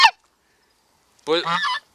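Two short gander honks, a brief one at the start and a longer, harsher honking call after a pause, loud and close.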